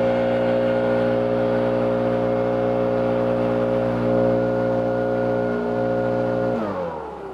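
A handheld leaf blower roars steadily and loudly close by as it blasts air at a hovering DJI Mavic 3T or Matrice 30T drone, a constant droning whine that holds for several seconds and then winds down at the end.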